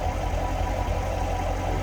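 A 2014 Chevrolet Corvette Stingray 3LT Z51 with its 6.2 liter GM V8 idling under a popped hood, a steady deep rumble with constant low throb, close and loud, no voices.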